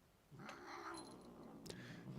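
A rescued house cat gives a drawn-out, whiny meow followed by a shorter cry, fairly faint and close in a quiet room, with no talking.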